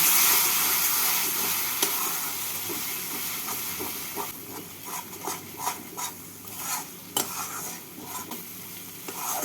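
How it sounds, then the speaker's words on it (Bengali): Cashew paste and sugar being stirred into a fish masala for kaju katla, a loud hissing sizzle at first that settles into softer bubbling with repeated scraping strokes of a spatula against the pan. "এবার ভালো করে মশলার সাথে কাজু বাদাম আর চিনিটাকে মিশিয়ে নেব"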